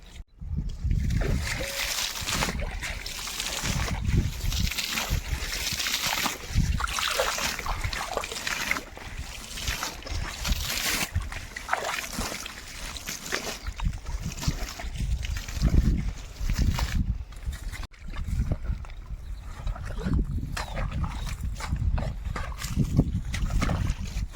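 Irrigation water gushing and splashing into a mustard field, loud and continuous, with sloshing and trickling throughout and a faint voice now and then.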